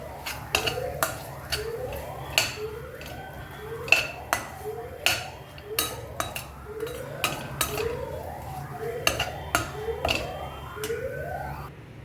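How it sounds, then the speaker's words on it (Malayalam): Kadai mushroom with garam masala is stirred in a pan, a spoon clinking and scraping the metal in a steady repeating rhythm, close and clear, with a recurring squeaky whine between strokes. "നുള്ള് ഗരം മസാല ഇട്ട് കൊടുത്തിട്ട് നന്നായിട്ട് യോജിപ്പിച്ച് കൊടുക്കാം"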